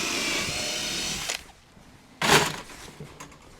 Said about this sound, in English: we have to drill holes and feed the wire through